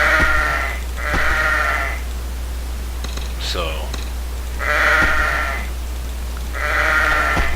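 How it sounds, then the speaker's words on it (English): Repeated sheep bleats from the Kingdom Rush game, four loud calls in a steady rhythm over a constant low hum, with a brief spoken word in between. "sheep must die. Kill the sheep. Sheep are weak."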